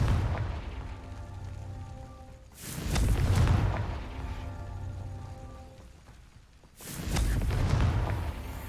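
Confringo explosive spell blasts in Hogwarts Legacy: two heavy booming bursts several seconds apart, each with a rumbling tail, over a low background hum.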